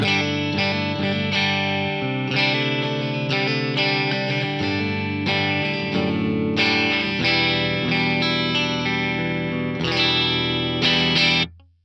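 Electric guitar through an Axe-Fx 3 Brit JM45 amp model with heavy compression, crunchy tone playing chords and riffs, dry and close with no added echo, ending abruptly.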